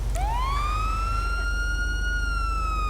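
A police car siren wails up from a low start into a steady, loud continuous tone in an LSPD roleplay video game, heard alone without talk.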